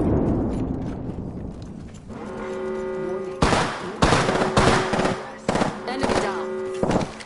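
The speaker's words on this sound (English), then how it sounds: "Listen up, I'm getting shot at" Gunfire in Apex Legends, sharp rapid bursts of shots landing in several clusters over a low game backdrop and a sustained tone, loud and close.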